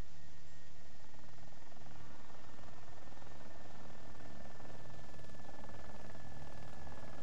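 A video game helicopter hovering and landing gives a continuous, even rotor and engine drone with a hissing wash, moderately faint and steady, with no talking.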